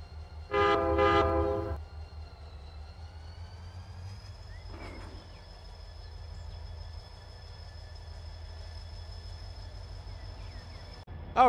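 Run8 Train Simulator game locomotive on the Mojave local: a loud two-note horn blast near the start, then the engine's steady low rumble with faint clanks and a higher tonal whine.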